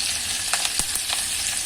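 Green chillies dropped into hot tempering oil with cumin, ajwain, coriander seeds and asafoetida give a steady close sizzle and crackle, with a few sharper pops and a stir scrape, no voices.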